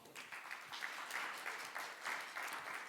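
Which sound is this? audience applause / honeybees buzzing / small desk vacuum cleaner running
audience applause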